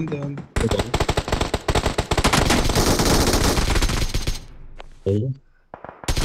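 Rapid bursts of automatic gunfire crackle loudly and continuously in PUBG Mobile, with a brief pause and more shots near the end, mixed with game sound effects.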